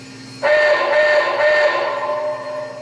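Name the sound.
reverse signal whistle of an MTH RailKing Cab Forward model train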